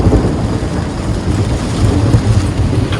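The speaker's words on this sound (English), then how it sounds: "Thunder and lightning storm." Heavy summer rain pours down around a boat at night in Rhode Island while thunder rumbles low and continuously beneath it, a loud, steady stormy roar with no voices.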